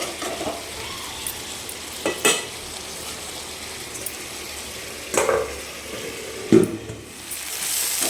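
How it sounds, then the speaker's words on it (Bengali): Mutton being stir-fried as kosha in a pan: a steady low sizzle with occasional scraping and clanks of a spatula against the pan, fairly close. "এই দেখো বন্ধুরা সুন্দর করে কষিয়ে কষিয়ে নিচ্ছি"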